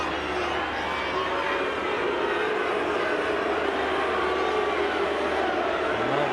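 Crowd at a 1999 NRL rugby league match at Leichhardt, Balmain Tigers against Parramatta Eels, producing a dense, continuous roar of voices and general stadium noise that holds steady throughout.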